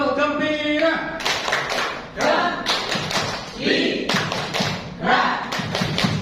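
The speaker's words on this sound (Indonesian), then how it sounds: "Tepuk gembira." Sharp hand claps land in a rhythmic pattern during a children's classroom clapping game, alternating with a voice chanting the routine between the bursts.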